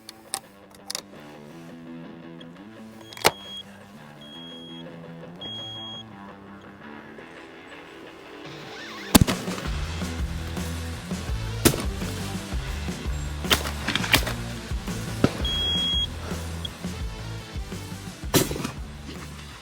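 Shotgun blasts from a Browning fired at clay targets, several sharp loud reports spaced unevenly, with music playing throughout and no talk.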